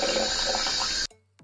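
Tap water runs steadily in a New Zealand home, a loud close hiss that stops abruptly near the end, followed by a brief faint knock.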